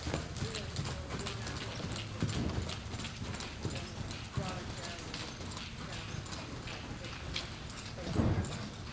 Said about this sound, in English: She's a lazy horse, Kaleigh.